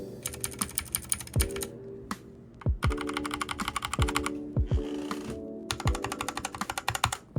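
Rapid bursts of mechanical keyboard typing, clicky and close, in several runs separated by short pauses, with low musical tones underneath.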